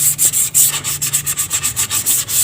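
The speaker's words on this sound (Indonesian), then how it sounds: "Saya pakai amplas 320 juga." Rapid rhythmic scratchy strokes of 320-grit sandpaper rubbing a carbon bird cage by hand before painting, steady back-and-forth pulses, close and fairly loud with no talking.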